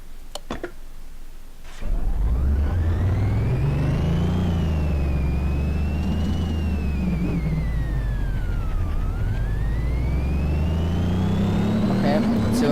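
Car engine in Car Mechanic Simulator 2018 revving hard on a dyno, a loud sustained roar that rises and falls through the gears for about ten seconds, with a whining tone sweeping up and down above it.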